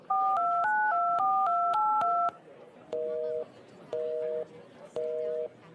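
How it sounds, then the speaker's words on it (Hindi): A phone keypad plays a quick run of DTMF dialing tones, nine or so beeps in steady rhythm, followed by three evenly spaced longer tones as the call fails to connect; clear and close with no talk. "इनमें से कोई एक नंबर डायल करो।"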